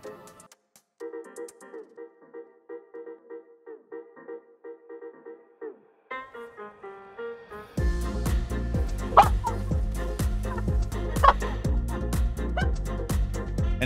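Cartoonish dog barks and yips from the Hearthstone card game, short bursts over a tonal game melody early on, then buried under a loud, busy burst of game music and effects.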